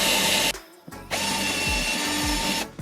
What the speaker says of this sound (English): Pre-drill some holes for the screws.